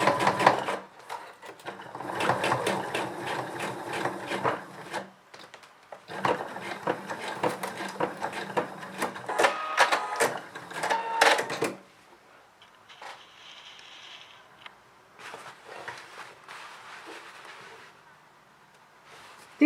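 A sewing machine runs top stitching with a 3.5 straight stitch, giving a steady mechanical whir with a couple of brief pauses. The machine stops partway through, and quieter handling sounds follow.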